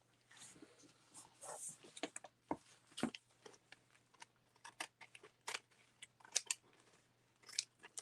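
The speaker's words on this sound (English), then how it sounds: "I'll trim it a little bit more." Scissors trim paper for a 6x6 mini album cover, a series of faint, close snips and crisp cuts at an irregular pace.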